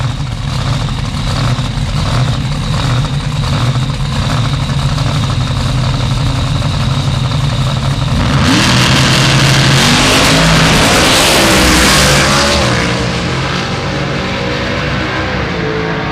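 Drag racing Corvette with a nitrous-fed 500 cubic inch engine and a blown Chevy II rumble at a loud, steady idle, then one rises into a sharp roaring rev before easing back to a throbbing idle.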